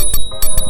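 Bell on an Emove Touring electric scooter ringing, a quick series of bright metallic dings with a sustained high ring, very close and loud, alone.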